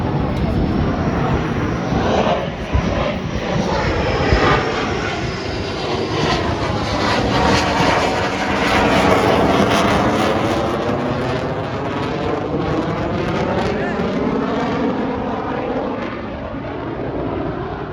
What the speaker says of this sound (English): That's a freaking jet.